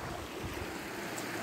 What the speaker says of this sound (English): A little river right here. Nice sound.